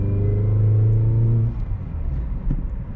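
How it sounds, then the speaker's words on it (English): A Peugeot 207 with a 1.4 petrol engine drives on a road test, its low engine drone steady and strong, then easing into a rougher rumble with road noise. "So now I can do a test drive."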